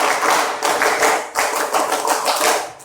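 A classroom of students performing the rhythmic scout clap together, with dense, loud handclaps in grouped bursts and short pauses between sets, and no voices over it.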